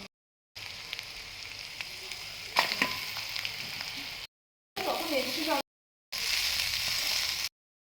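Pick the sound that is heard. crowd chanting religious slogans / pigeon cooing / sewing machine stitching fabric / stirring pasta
stirring pasta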